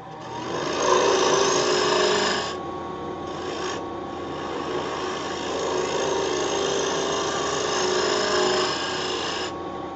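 A woodturning lathe flattens the face of a cross-grain wooden box while a tool scrapes and rasps against the spinning wood, close and continuous, with a few short breaks in the cutting.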